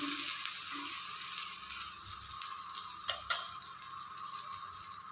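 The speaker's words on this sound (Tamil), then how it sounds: "எண்ணெய் ஊற்றி கடுகு போட்டு கருவேப்பிலை போட்டு ஒரு வரமிளகாய் போட்டு தாளித்தோம்னா சூப்பராக இருக்கும்" Mustard seeds, curry leaves and a dried red chili crackle in hot oil, a steady close sizzle with faint scrapes and one sharp pop partway through, no voices.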